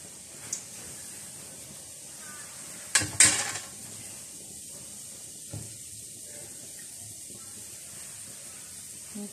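A kuih ros mould dipped into hot frying oil while making rose cookies sets off a sudden sizzling burst, followed by a steady low hiss of bubbling oil, with a few faint clinks.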